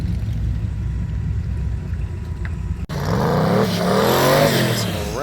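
A car cruises up past smokestacks in a steady low engine rumble that swells into a louder, rising rev and pass-by about halfway through.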